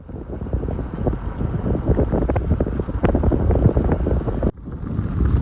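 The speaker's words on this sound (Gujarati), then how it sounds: "અહીંયા ઠંડો પવન આવે" Cold evening wind gusts at George Everest, Mussoorie, roaring steadily across the microphone as a dense, rumbling rush with a brief dip near the end.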